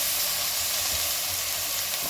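Green chillies sauté with ginger garlic paste for mutton keema kanji, making a dense, loud, continuous hiss and sizzle close by, with faint stirring underneath and no talking.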